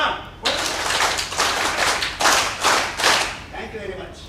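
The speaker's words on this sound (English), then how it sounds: "Like this, you have to clap." A group of workshop participants claps hands together in a hotel meeting room, producing several loud, dense bursts of applause-like clapping in rhythmic waves, each lasting about half a second with short pauses between.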